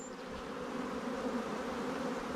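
Swarming honey bees buzz densely around a hive, a continuous steady droning hum close by, with no voices.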